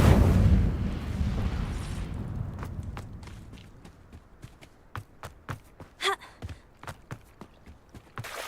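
Incendio fire spell cast in Hogwarts Legacy: a heavy roaring burst of flame that swells at the start and fades away, followed by a run of sparse, sharp footstep-like thuds and clicks.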